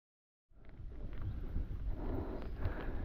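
Wind gusting on a riverbank along the Seine in the Eure countryside during a bike trip, a steady broadband rush with low rumbling buffets that rises after a silent half-second start and holds loud throughout.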